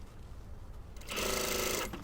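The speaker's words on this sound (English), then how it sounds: "we're literally just sewing these 2 layers together." A sewing machine runs a short burst stitching two layers of fabric together for a puff-sleeve blouse seam, starting after a quiet moment and whirring steadily and close for under a second before stopping.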